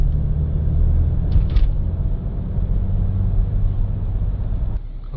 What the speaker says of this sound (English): I'm going to take it for a test drive now.